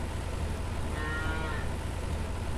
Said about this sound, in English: Cows need to get to work.